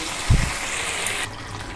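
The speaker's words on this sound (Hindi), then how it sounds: "थोड़ा सा वो पानी मैंने जो यखनी हमारी बची हुई पड़ी थी वो इसमें शामिल कर दिया" Leftover meat stock (yakhni) is poured into a cooking pot of sautéed meat for a green bean and mutton curry, making a short close splash and gush of liquid that quickly settles.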